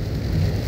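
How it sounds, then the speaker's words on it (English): Rain falling in a steady, dense wash with a deep rumbling undertone, loud and continuous for under a second. "it's another rainy day"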